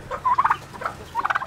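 Turkeys gobble in several quick, close bursts, a rattling call near the start and another toward the end, with no talking over them.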